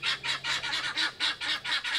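Chickens and a rooster at a goat farm near Mont Blanc cluck in a steady series of about nine rhythmic, close calls over two seconds, with no talk.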